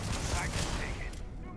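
Rapid bursts of gunfire in the Starfield video game, loud and busy at first, then thinning out, with a voice speaking over it.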